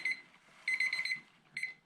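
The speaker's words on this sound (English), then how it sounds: "And our alarm is about to go off." An alarm clock beeps in quick high-pitched bursts: a short beep, a pause, a rapid run of beeps, then another brief burst, fairly faint in a quiet room.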